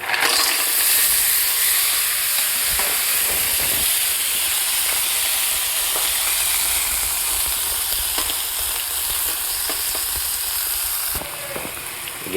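Mussels hit a hot pan with garlic and onion, giving a loud, steady sizzle and hiss that fills the whole stretch, with a few faint stirring knocks and a slight drop in intensity near the end.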